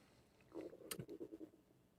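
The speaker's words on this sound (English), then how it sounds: "If you heard that, that was my stomach." A faint, brief gurgling stomach rumble with a few soft bubbly pulses, quiet and close.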